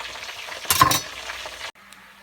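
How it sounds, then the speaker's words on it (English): Loud crackling sizzle of chicken frying in hot oil, swelling briefly then settling to a steady hiss before cutting off abruptly. "Chicken's frying."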